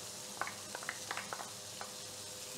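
Garlic sizzling in hot oil in a pan, a steady bright frying hiss with scattered small pops and crackles, close and moderately quiet, with no talk.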